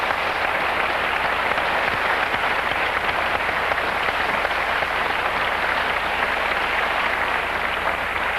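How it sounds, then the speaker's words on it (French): A studio audience on the French TV music show Traffic Musique claps steadily for the whole stretch, a dense, even roar of applause with no voices rising above it. "Je crois que vous pouvez l'applaudir."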